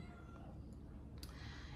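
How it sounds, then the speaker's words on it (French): A cat meows faintly in a quiet room, a brief soft call or two over low background hum, followed by a short sharper noise near the end. "c'est un chat qui miaule"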